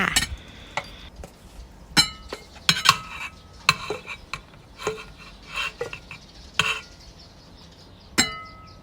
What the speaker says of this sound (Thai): ก็เตรียมตักใส่จานพร้อมเสิร์ฟได้เลยจ้า